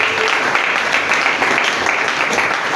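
A church congregation applauds with dense, steady clapping that fills the whole stretch evenly and stays close and loud without a break.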